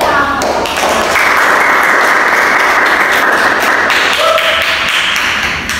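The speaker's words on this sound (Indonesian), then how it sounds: "Iya, beri tepuk tangan." A classroom audience applauds together, a dense burst of clapping from many hands that starts sharply, holds steady for several seconds and fades near the end, with a few brief voices mixed in.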